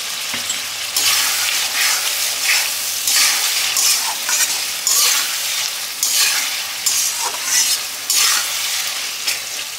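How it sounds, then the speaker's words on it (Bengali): Katla fish balls frying with onion and capsicum for chilli fish, giving a steady close sizzle broken by repeated stirring scrapes and clatter in the pan, with no talking. "এবারে আমি পেঁয়াজ আর ক্যাপসিকামের সঙ্গে এটা ভালো করে ভেজে নেবো।"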